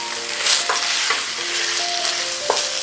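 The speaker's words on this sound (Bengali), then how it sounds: "চালটাকেও বেশ ভালো করে ভেজে নিতে হবে।" Raw rice being fried and stirred in a pan, a dense continuous sizzle with soft scraping strokes of a spatula recurring every half second or so, close and fairly loud, no voices.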